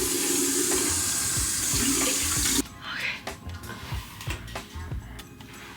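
Tap water runs steadily into a sink as someone wets their hair under it, a close, hissing stream that cuts off partway through and leaves quieter drips and handling sounds.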